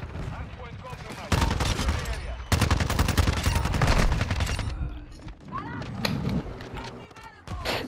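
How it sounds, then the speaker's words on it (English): Rapid full-auto pistol fire in a Call of Duty match, bursts of dense crackling shots layered with other game gunfire and effects, loud and close, with a player talking over it. "destroyed by a full auto pistol"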